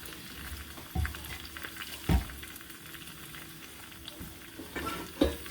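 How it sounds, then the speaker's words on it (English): Fresh methi (fenugreek) leaves fry in hot oil for a rasam tadka, giving a steady sizzle with stirring clatter and a few sharper knocks from the pan, heard close and without any talking. "This fresh methi in the oil for rasam"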